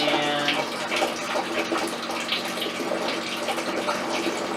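Water from a hose feeding an RO bucket pours in a steady, continuous stream with a splashing, bubbly texture from air being pushed out, moderately loud and close, with no talking.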